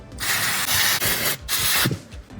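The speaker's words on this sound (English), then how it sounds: "It's always good to use a bit of brake cleaner to clean it up." Brake cleaner hisses in several loud aerosol bursts onto a brake caliper during a pad change on a crashed car, with short gaps between sprays and a faint rattle near the end.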